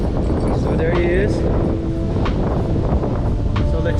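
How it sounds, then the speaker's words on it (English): Strong wind on a beach buffeting the microphone in a constant rough roar, with faint surf behind it and a person talking through it. "I know it's really windy right here."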